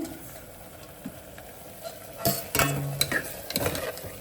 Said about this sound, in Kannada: ಎಲ್ಲ ಒಂದು ಸ್ವಲ್ಪ ತರಕಾರಿ ಒಂದು ಸ್ಟಿರ್ ಕೊಟ್ಬಿಡಿ